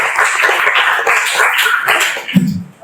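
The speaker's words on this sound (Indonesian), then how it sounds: "Kita tepuk tangan untuk semua." Classroom of eleventh-grade students at an Islamic senior high school clapping together, a dense, steady patter of hands that stays fairly loud throughout and thins near the end.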